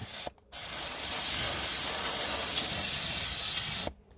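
A Karcher SC3 steam cleaner blasting a steady, loud hiss of steam for about three and a half seconds, starting and stopping abruptly, close up with no voices.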